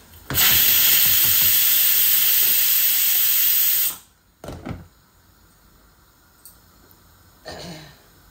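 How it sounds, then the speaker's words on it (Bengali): Pressure cooker whistle releasing steam while cooking a fish-head curry with tomato and kiwi in a home kitchen: one long, loud hissing blast for about four seconds, then fainter puffs and short bursts of escaping steam. "আর দুইটা হয়ে গেছে সিটি, আরো একটা বাজি যাক"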